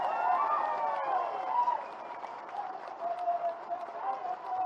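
Crowd clapping and cheering at an outdoor political rally in Kodangal, a steady mid-distance wash of applause with some voices mixed in, holding for several seconds.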